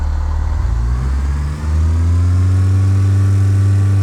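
A single-engine airplane in a flight simulator winds up to full throttle for the takeoff roll, a steady loud drone holding at constant pitch with a brief dip partway through, no voices.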